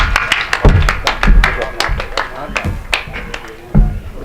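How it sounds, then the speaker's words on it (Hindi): Scattered claps and hand taps from a Hindi hasya kavi sammelan audience in Gannor, welcoming comic poet Deepak Saini; sharp, irregular claps, fairly close, with a few louder bursts. "एक बार जोरदार तालियां बजाकर आप स्वागत कर दें भाई दीपक सैनी।"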